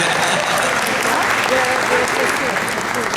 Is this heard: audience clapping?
yes